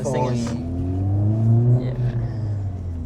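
A 2025 Honda Civic Type R on its stock exhaust runs with a deep, steady engine drone that rises and holds close by, with a voice speaking over it.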